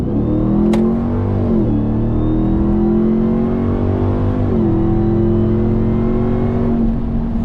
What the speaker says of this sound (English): You hear that blower, and it feels more raw in the TRX versus the Raptor R.